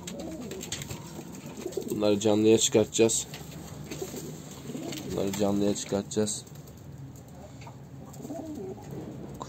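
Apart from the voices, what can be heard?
pigeons cooing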